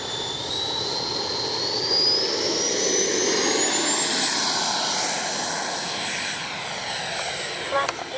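An FMS 80mm F-86 Sabre electric ducted-fan RC jet takes off into the wind with flaps set, its loud, steady turbine whine rising in pitch and holding throughout, close by with a brief clatter near the end.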